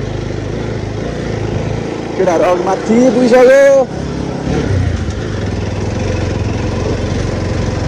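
A motorcycle engine and its cooling fan run loudly and steadily on a slippery off-road trail to a waterfall, a constant drone with a rider's voice speaking over it partway through.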